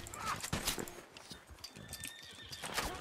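A video-game horse whinnies and its hooves clop amid a busy game soundscape, with scattered clicks and faint background noise.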